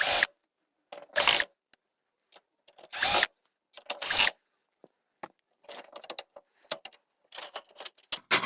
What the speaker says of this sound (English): take these mounting screws out.